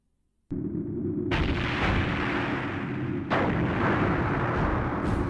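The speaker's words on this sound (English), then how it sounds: "It sounds like cannon fire." Cannon fire in the video game Skies of Arcadia Legends: a sustained, loud barrage of booming blasts that starts abruptly after a moment of silence and swells again midway, with no voices over it.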